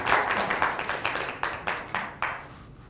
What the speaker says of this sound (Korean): 한번 일어나서 다시 한번 뜨거운 박수 한번 주십시오.